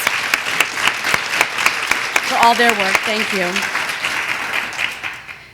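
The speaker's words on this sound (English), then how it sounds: "huge round of applause" A summit audience at a facility in Cupertino gives a big round of applause, with sharp individual claps rising into a full ovation while a speaker talks over it into a microphone.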